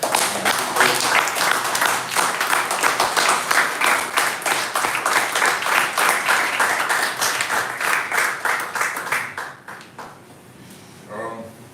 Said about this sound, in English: Please, a huge applause for